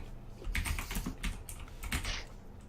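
Rapid, uneven clicking of keys being typed on a keyboard in the video game Shadowrun, fairly soft and continuous for a few seconds.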